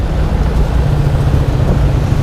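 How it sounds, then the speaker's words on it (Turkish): Steady, heavy wind buffeting the microphone during a motorcycle ride in Cambodia, a continuous low roaring rumble with no pauses. "Şu an çok rüzgar var."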